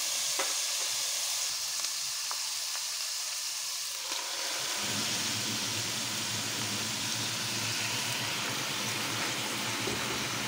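Kulitis greens dropped into a hot pan with browning bangus belly, the sizzle surging loudly at about four seconds and then holding as a steady, close frying hiss with no talking.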